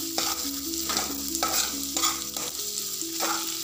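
Coriander and cumin powders fry in hot oil while a spoon scrapes and stirs them in a pan, giving a steady sizzle broken by rhythmic stirring strokes roughly every half second, close and without talk.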